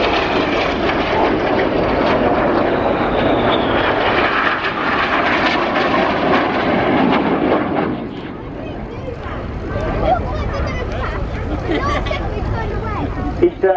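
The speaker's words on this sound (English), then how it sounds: "they will do a series of passes before pulling 5G in a manoeuvre we like to call the boomerang" Red Arrows jets make low, high-speed passes at an airshow, a loud sustained roar that swells and shifts as they go by, with crowd noise and a commentator's voice over it.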